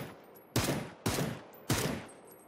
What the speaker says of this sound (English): Just give me a freaking DMR so I can shoot this lad.